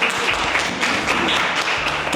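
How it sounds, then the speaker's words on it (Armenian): Audience clapping at a school event in Kotayk, a dense, even patter of many hands applauding together with a few louder thuds. "Ծափահարություններ։"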